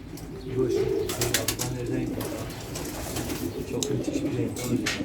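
Racing pigeons in a farmyard loft coo. Low rolling coos repeat steadily through a busy background of chirps and fluttering, and a voice talks in the background.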